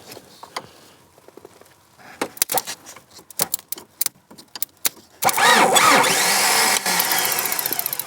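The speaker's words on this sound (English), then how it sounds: "I'm gonna manually turn on my starter motor. You're not gonna start the engine." A car engine being cranked by a manually engaged starter motor in winter cold, heard as rattling clicks before a loud steady whirring crank that runs for a few seconds without the engine catching.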